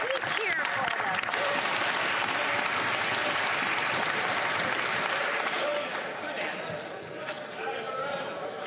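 Members of the House of Commons applaud and cheer during Question Period, a sustained wash of clapping and voices that thins slightly near the end.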